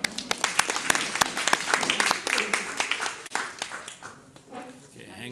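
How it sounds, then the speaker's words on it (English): Audience applause at a one-slide talks event, many sharp claps close together that thin out toward the end, with some murmur of speech under them. "let's give him a round of applause"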